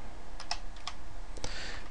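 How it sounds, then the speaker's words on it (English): Typing on a computer keyboard, a handful of sparse, close key clicks spread irregularly over a couple of seconds with a quiet background hum. "I'm just typing it out"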